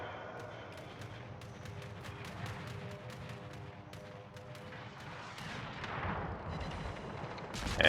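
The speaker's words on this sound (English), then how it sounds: "SirHamer puts out a long-range shot." Long-range battleship gunfire in World of Warships rumbles through a continuous low roar of in-game battle noise, with distant booming shots and rapid clicking interface ticks layered on top, no voices heard.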